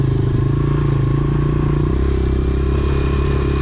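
A dirt bike rides steadily across a grass field, its engine a loud, continuous close drone with a slight shift in pitch partway through, with clattering mechanical noise and no voices.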